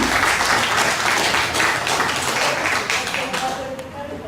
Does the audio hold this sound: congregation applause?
yes